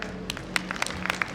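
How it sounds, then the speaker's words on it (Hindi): Brief burst of audience clapping at a leadership training workshop, scattered sharp hand claps from a room of people, close and uneven. "अच्छा फिर से एक बार जोरदार तालियां"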